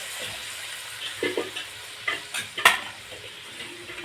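Potatoes and pointed gourd sizzle and get stirred in a pan while hot water is added, with soft scraping and bubbling, a few sharper clinks and stirring bursts standing out close by.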